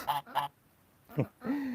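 Geese give four short, nasal honks in the coop, two quick ones together, then a pause and two more, close and fairly quiet.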